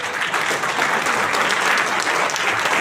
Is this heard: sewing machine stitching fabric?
no